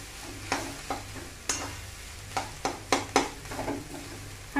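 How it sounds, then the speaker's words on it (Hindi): Vegetables for momo filling frying in a pan, a soft steady sizzle punctuated by a series of sharp, close scrapes and knocks as a spoon stirs them, with no talk. "अब हम इसमें इसको थोड़ा अच्छे से स्टर कर लेंगे।"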